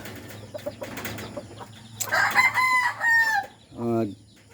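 Chickens cluck and cackle loudly at close range, with short sharp squawks and a drawn-out cackling call, like a hen that has just laid an egg, interrupted by brief pauses.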